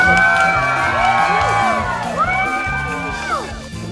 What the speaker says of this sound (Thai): ขอเสียงปรบมือดังๆครับ